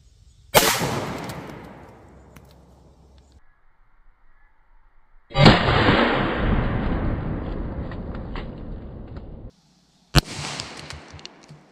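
Three .45 ACP pistol shots fired at watermelons outdoors, each a sharp loud crack followed by a long decaying rumble and splatter, spaced several seconds apart with quiet between.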